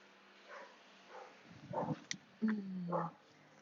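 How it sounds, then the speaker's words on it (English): Dog barks come in from somewhere nearby at a home yoga session, a few short bursts and a longer whining yelp near the end, fairly faint over a quiet room. "A lot of dog activity here today."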